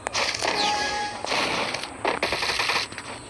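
Dense, rapid gunfire rattles continuously in a shooter game in lone wolf mode, loud and close with cracks and short pauses, no talk over it.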